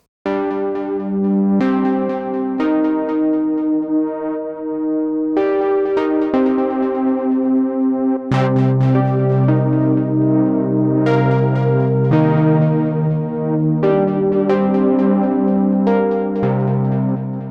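A bright, glassy synthesizer plays a sequence of chords and notes, each with a crisp attack and shimmering, digital-sounding tone.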